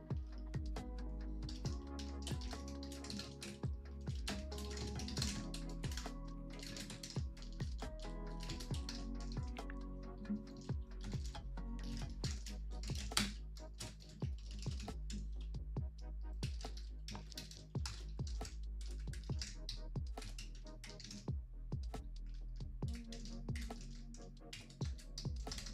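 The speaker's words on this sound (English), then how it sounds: "I'm finally typing fast again." Fast typing on a computer keyboard, dense rapid key clicks with short bursts and brief pauses, close and steady throughout, no talk.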